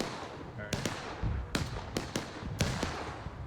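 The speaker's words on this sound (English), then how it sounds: "After doing all of that, he gets smoked by a cannon." Artillery cannons fire in the Civil War game War of Rights, a series of sharp, booming shots spaced irregularly over a few seconds, some closer and some more distant, under a faint layer of background noise and voices.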